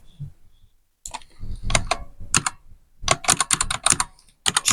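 A computer keyboard is typed on in quick bursts of close, crisp key clicks separated by short pauses, with some soft mouse clicks, while entering a table label in a spreadsheet.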